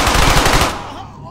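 A short burst of rapid machine gun fire in the World War II shooter Brothers in Arms: Hell's Highway, loud and dense, then cut off into a fading echoing tail.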